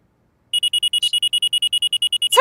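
Alarm from a Nancy Drew video game, a rapid run of identical high electronic beeps pulsing evenly after a short silence, loud and piercing.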